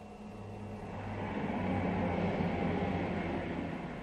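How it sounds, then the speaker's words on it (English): A train rumbles past outside a closed window, a muffled broadband roar that swells over a couple of seconds and holds steady, heard from indoors. "My window's closed, but you can still hear the train go past."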